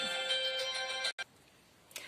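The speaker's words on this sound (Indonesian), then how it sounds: "tadi ada suara telepon" A phone rings with a bright electronic ringtone that warbles steadily for about a second, breaks off abruptly, and leaves quiet room tone with a faint click near the end.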